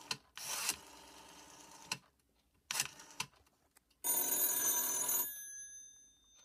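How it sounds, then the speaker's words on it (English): Rotary dial on an avocado green Western Electric 500 telephone spinning and clicking back in several separate bursts, close and fairly quiet, followed by a louder ringing, tonal burst from the phone line. "I can dial this phone right here."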